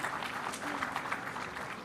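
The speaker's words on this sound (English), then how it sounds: "Can I have a round of applause for him" Applause rises from the audience at a defence conclave's inaugural session, a brief, faint, steady patter of many hands heard from a distance.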